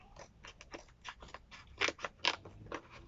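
A parcel collected from the post office is torn and cut open, bursts of crinkling, crunching packaging and snipping, close and uneven with short gaps.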